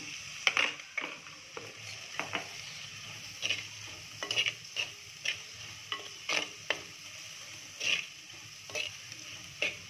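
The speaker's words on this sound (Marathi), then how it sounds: "झाला आता कांदा आपला परतून" Onion sautéing in a pan with salt for a brinjal and potato vegetable dish: soft sizzling under a regular rhythm of clicking spatula scrapes against the pan, close by and fairly quiet, with no voices.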